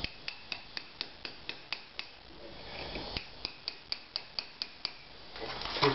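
A small cold chisel struck repeatedly against lime mortar, a steady series of sharp metallic taps with a gritty scraping pause midway, close and fairly quiet.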